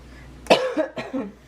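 A single person coughs twice, close and loud, after a brief quiet moment.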